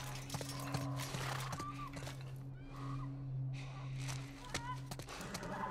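A horse in The Last of Us Part I game walks with clip-clop hoof steps and snorts over a steady low hum, fairly close, with faint breaths and other game sounds mixed in.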